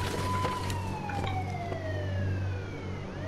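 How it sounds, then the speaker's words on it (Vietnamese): A police car siren wails in the mobile video game India Bikes Driving 3D, a sliding tone falling repeatedly over a steady low engine drone, loud and continuous with no talk. "Đây là một chiếc xe cảnh sát nữa."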